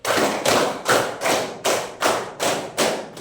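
A group claps together in a rhythmic hand clapping game, two sets of four quick unison claps each, loud, close and evenly paced with no talking.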